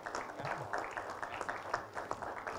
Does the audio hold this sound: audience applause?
yes